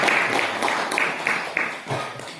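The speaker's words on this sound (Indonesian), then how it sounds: "Tepuk tangan buat Gunung Kidul." Audience applause for Gunung Kidul at an Islamic gathering, a dense, steady wash of clapping with rhythmic surges, fairly close and continuous throughout.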